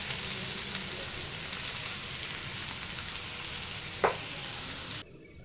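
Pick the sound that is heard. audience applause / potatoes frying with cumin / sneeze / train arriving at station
potatoes frying with cumin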